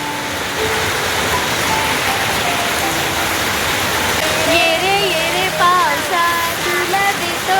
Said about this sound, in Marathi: केवढा मोठा पाऊस आलाय